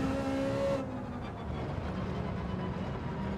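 A race car engine in Gran Turismo 7 roars past, loud at first and then dropping to a lower steady drone as it pulls away, with no talk.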